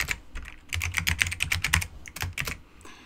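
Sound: typing a MongoDB query on a computer keyboard

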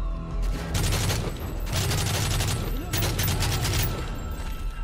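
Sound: gunfire shooting through walls, Modern Warfare 3 video game

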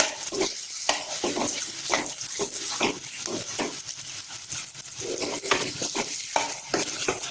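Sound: stirring potato masala in a pan

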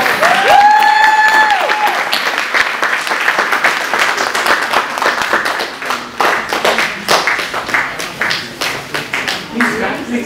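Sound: audience applause

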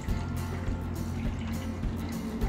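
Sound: water being poured into an air humidifier tank

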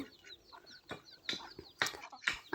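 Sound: ducks near home during feeding

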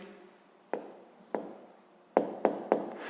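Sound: writing down a maths answer

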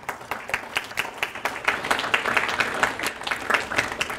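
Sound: audience clapping at a poetry reading

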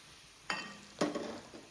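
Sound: beans frying in oil with onions

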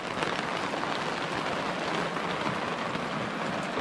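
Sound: heavy rain falling on a camper van at night

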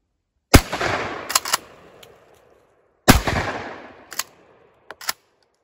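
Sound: 20 gauge shotgun firing buckshot and shot loads

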